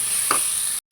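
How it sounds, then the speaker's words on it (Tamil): Vegetables and green chili frying in oil, giving a steady bright hiss of sizzling with one brief stirring clatter, cutting out abruptly near the end. "எண்ணெயிலே நல்லா வேகுது"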